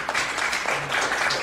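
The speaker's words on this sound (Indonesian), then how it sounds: "Tepuk tangan buat Tuhan kita." A church congregation claps for God after a healing testimony, a steady wash of applause filling the short moment without pause.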